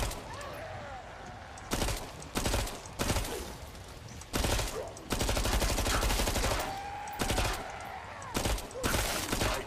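Gunfire in the zombie shooter Killing Floor 2 comes in repeated loud bursts of rapid automatic fire, separated by short gaps filled with quieter game noise.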